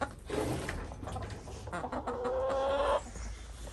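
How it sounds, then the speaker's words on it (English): Several chickens in a coop in Alaska in January cluck and murmur nearby, one drawn-out squawk rising above the rest before it fades. "Here's all our chicks."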